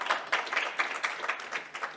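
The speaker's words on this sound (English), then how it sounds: "A round of applause for the two of them." Light, scattered clapping from a small audience at a business CEO roundtable event, individual claps audible in a quick uneven rhythm.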